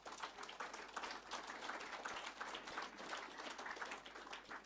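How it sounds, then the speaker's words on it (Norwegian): An audience applauds at a Norwegian breakfast panel on halving transport emissions, a steady dense patter of many hands held at a moderate, even level throughout. "men nå kan du få applaus."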